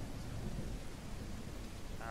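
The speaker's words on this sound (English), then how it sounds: "You very clearly have rain effects." Rain and thunder ambience from the dinosaur survival game The Isle Evrima: a steady, dense wash of falling rain with a low rumbling undertone of thunder, continuous and fairly loud throughout.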